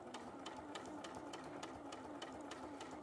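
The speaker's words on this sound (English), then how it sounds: "at the moment I'm just top stitching here." A sewing machine top stitching fabric runs in a steady quick needle rhythm, faint and close, with regular clicking pulses over a soft mechanical hum.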